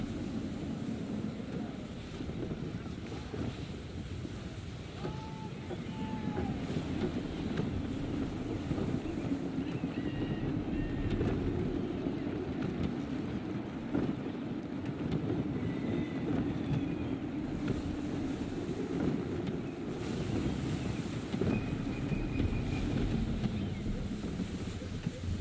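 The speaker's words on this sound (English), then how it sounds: "Full sail. Wind looks to be shifting. Stay alert, Connor. Gusty winds can be difficult to manage." Sailing ship at sea in Assassin's Creed III under gusty wind. Wind rushes and roars steadily with water washing against the hull, and faint creaks and calls sound through a continuous ambient bed.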